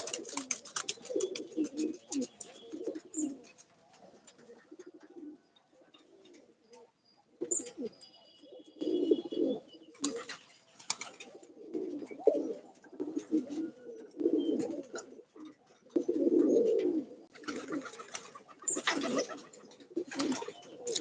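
Domestic pigeons coo repeatedly in low, throaty bursts at close range, with birds calling one after another over a quiet morning backdrop and faint chirps between phrases.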